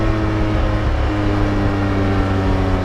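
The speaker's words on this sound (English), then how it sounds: "How you can make a 4-litre flat 6 engine sound this bad, I will never know." Porsche 718 with a naturally aspirated 4-litre flat-six, its exhaust giving a loud, steady droning hum on the overrun, with no voices over it.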